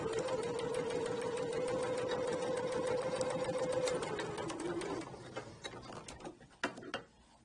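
A sewing machine stitches a gathered ruffle seam with a steady whirring hum for about five seconds, then slows and stops, followed by scattered clicks and taps of back tacking and handling.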